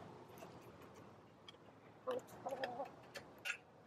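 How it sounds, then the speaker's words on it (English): Soft clucking from chickens in the distance, a few short bursts rising over a quiet background hum near the end. "chickens."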